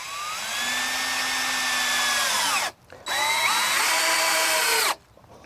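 Power drill driving screws through cement board into the wood beneath, two loud whirring bursts with rising then falling pitch, separated by a brief pause.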